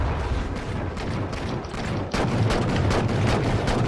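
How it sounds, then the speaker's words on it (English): Heavy overlapping gunfire and explosions fill a Halo 4 Warzone battle, a steady roar of shots and blasts that grows louder and more crowded partway through. "Lots and lots of fucking bullets."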